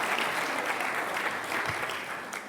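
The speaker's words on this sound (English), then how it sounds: "Give yourselves a little applause" An audience applauds at a magic talk, a dense, even wash of clapping from a room full of people that holds steady and tapers slightly at the end.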